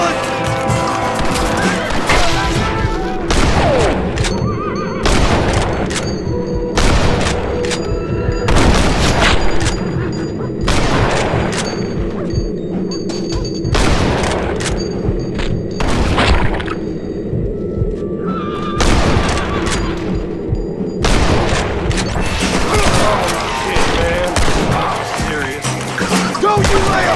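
A Red Dead Redemption gunfight brings repeated heavy gunshots and booming blasts in steady bursts over about half a minute, layered over a dense, continuous background din.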